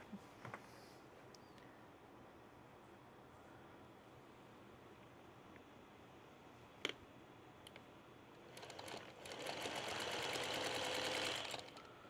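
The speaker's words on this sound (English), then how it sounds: "So I'm just going to sew this like a 9 patch." A sewing machine stitches together the pieces of a nine-patch quilt block, a quiet rapid stitching burst swelling near the end after faint ticks and small handling sounds, with no talking.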